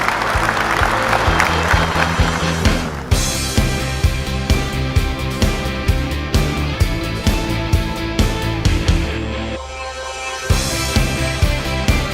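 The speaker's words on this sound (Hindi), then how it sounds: "जोरदार तालियां हो जाए मैम के लिए।" An audience at a trading talk show claps loudly and continuously for a female trader, sharp dense applause with scattered louder claps, fading briefly near the end before picking up again.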